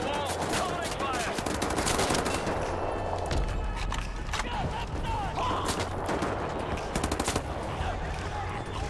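Dense, sustained automatic gunfire from a Wolfenstein: The New Order battle, with loud rapid bursts overlapping almost without pause and voices faintly audible underneath.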